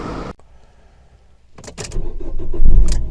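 A car engine cranks and catches after a short quiet stretch, with clicks and a door-like thump before the motor rumbles up nearby.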